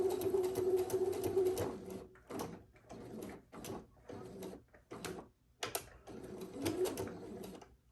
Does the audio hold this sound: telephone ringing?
no